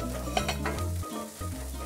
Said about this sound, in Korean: 잠시 고기 구울게요.